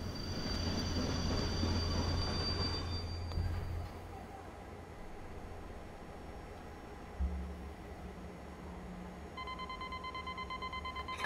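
A train in a spooky station video game pulls in at the platform with a loud low rumble that fades after four seconds, followed by a brief thump, a steady low hum and faint chiming tones.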